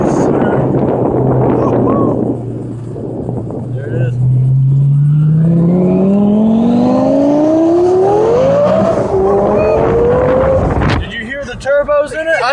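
A 1300 hp twin-turbo Lamborghini accelerates hard from inside the cabin, its loud engine note sweeping steadily upward through the gears with heavy wind buffeting, then an abrupt shift as voices exclaim over it.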